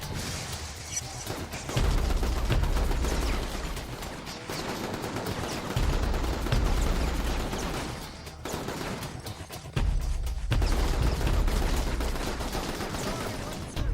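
Sustained automatic gunfire from a gunman in a PS3 video game, loud and close, coming in long rattling volleys with short pauses between them, over steady background game noise.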